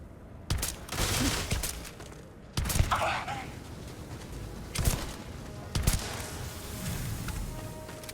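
Gunfire in the space game Starfield: several sharp, loud shots in separate bursts spread across the clip, over a busy backdrop of game noise.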